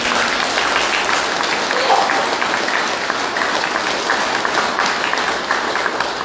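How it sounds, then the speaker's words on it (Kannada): A large crowd at a yoga and meditation camp applauds loudly and steadily, a dense, even wash of clapping that holds for several seconds with no break. "ಈಗ ಇಡೀ ವಿಶ್ವ ಅದನ್ನು ಚಪ್ಪಾಳೆ ಹೊಡೆದಾದ್ರೆ ಜೋರಾಗಿ ಹೊಡೆಯಿರಿ"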